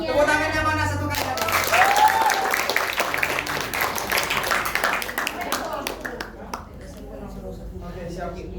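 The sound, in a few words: audience applause after a drama performance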